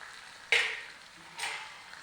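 Spices such as red chili powder, turmeric and salt fry in hot oil for an aloo gobhi dish, giving a steady soft sizzle with two sharper hissing bursts as they are stirred.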